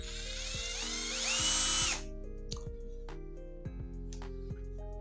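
A rechargeable cordless screwdriver drill running in reverse: a steady, close motor whine that climbs and falls in pitch as the speed changes, with a brief brighter high whir early on and faint clicks between the steps.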